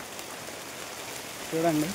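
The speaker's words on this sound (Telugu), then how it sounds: "చూడండి వర్షం బాగా గట్టిగా పడుతుంది." Heavy rain pours down in a forest tribal village at Seethampeta, a steady close hiss of drops, with a person starting to speak near the end.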